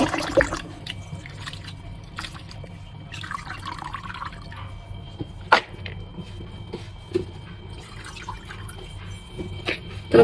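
Cut gourd peel and a hilsa fish head are rinsed by hand in water, giving faint intermittent drips, splashes and light knocks against a low background hum.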